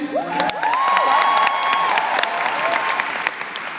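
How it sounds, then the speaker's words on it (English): Women in a seminar audience clap together, a dense, steady burst of applause with faint cheering and a high whistle-like tone running through it. "Clap, ladies."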